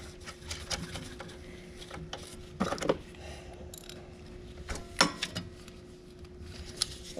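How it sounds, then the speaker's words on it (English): A nut being screwed back onto a Turfco machine during belt replacement: sparse metallic clicks and ratcheting taps, a few sharper clanks mid-way, over a faint steady hum. "Screw the nut back on."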